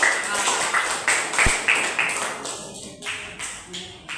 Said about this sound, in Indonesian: Semuanya kasih tepuk tangan biar semangat lagi.